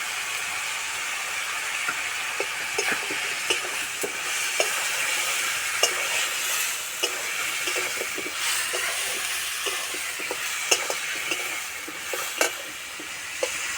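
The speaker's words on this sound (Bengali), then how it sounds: "আলুর সঙ্গে মশলা খুব ভালোভাবে কষানো হয়ে গেছে" Ground spices frying with potatoes in a pan, a steady bright sizzle broken by repeated scraping and clacking strokes of stirring, close up with no talk.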